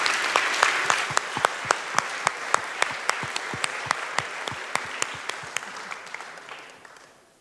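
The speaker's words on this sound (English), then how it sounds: "let's give Monica an extra applause for hand-drawn slides" A conference audience at PromCon EU 2023 applauds a speaker after her talk, a steady round of clapping with distinct sharp individual claps standing out, gradually tapering off toward the end.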